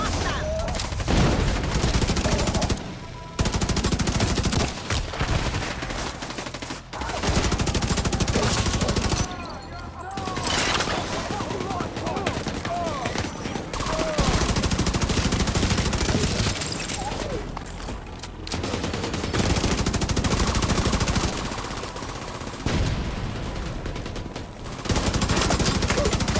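Sustained bursts of automatic gunfire from the shooter game The Division 2 rattle loudly and densely with brief lulls, mixed with battle noise and game dialogue in a Warlords of New York mission.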